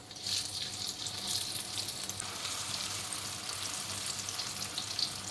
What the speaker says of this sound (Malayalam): എണ്ണ നന്നായിട്ട് ചൂടായിട്ടുണ്ട് ഇനി ഇതിലോട്ട് മാങ്ങ ഇട്ട് കൊടുക്കാം